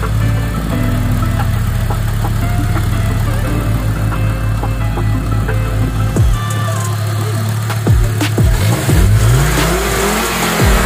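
A 1994 Audi S4 with a 2.2 turbo engine idles loudly nearby, then is revved in several sharp blips that rise and fall with a gruff, rumbling tone, with no talking.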